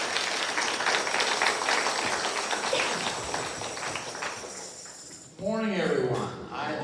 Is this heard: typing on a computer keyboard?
no